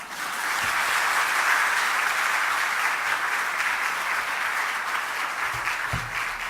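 A church congregation at a Sunday evening service claps together in a sustained, even burst of applause that holds steady and loud throughout.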